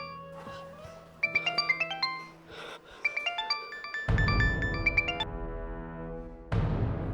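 A cheerful electronic ringtone melody plays in repeated bursts of bright chiming notes, fairly loud and close, with a brief pause between phrases.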